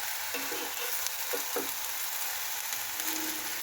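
Eggplant roasting in an electric pan gives a steady, close frying sizzle with a few soft bumps of movement, no voices.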